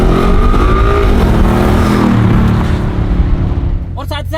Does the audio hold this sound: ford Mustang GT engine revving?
yes